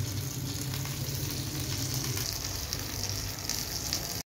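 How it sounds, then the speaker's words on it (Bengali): Fish frying in a pan for an iftar meal, a steady close sizzle and crackle of hot oil running throughout with no talk. "এখন হচ্ছে ও বসছে মাছ ভাজি করার জন্য"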